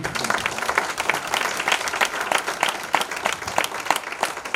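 A church congregation claps in praise during a service, a dense, lively round of applause with crisp individual claps throughout, loud and close, with no voices standing out.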